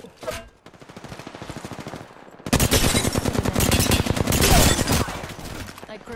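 Rapid automatic gunfire in the battle royale game Apex Legends, a lighter burst at first, then louder and denser sustained bursts of shots close by in the second half.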